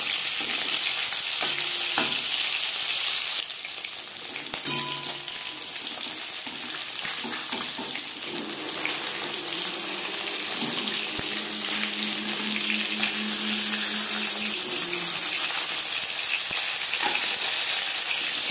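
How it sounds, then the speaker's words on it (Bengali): Bhola sea fish frying hard in a pan, a continuous close sizzle with occasional clinks and a brief watery bubbling passage partway through. "আমি একটু কড়া করেই ভাজলাম, যেহেতু সামুদ্রিক মাছ।"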